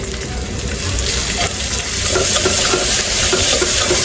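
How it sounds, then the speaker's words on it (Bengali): A loud, dense sizzle of ginger-garlic spice paste frying in oil fills the clip, steady and close, with a rushing, watery edge. "তেলের সাথে ভাজা ভাজা করে নিব"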